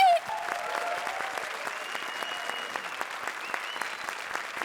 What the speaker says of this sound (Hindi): जोरदार तालियां सलोनी, राजीव और स्मिता के लिए